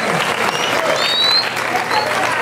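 Dense, loud applause from a crowd fills the whole stretch, steady clapping with a few whistles and voices mixed in.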